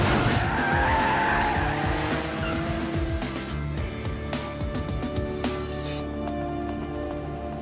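A car in an action film speeds away with its tires squealing and skidding, close and loud at first, then the engine and screech thin out as it pulls off.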